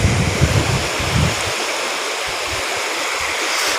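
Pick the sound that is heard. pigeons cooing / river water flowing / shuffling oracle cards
river water flowing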